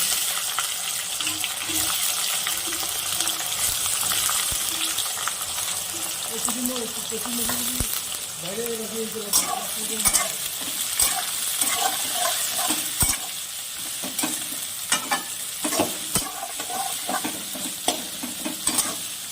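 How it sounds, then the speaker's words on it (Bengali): Onions fry with dry red chili, bay leaf and whole garam masala in hot oil for a chicken dish. A continuous hiss and sizzle is broken by scraping stirs and clinks of a utensil, and faint talk sounds now and then. "পেঁয়াজটাকে 5 মিনিট লাল করে ভেজে নিই।"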